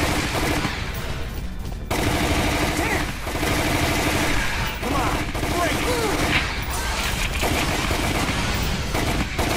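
Rapid, sustained submachine gun fire from the Resident Evil Umbrella Chronicles video game, loud and dense bursts running almost continuously with brief breaks, over a busy mix of game sound.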